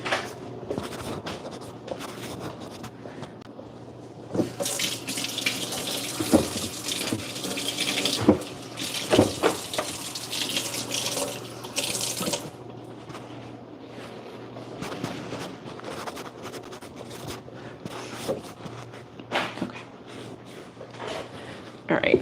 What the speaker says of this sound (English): I'm just gonna go wash this brush off really quick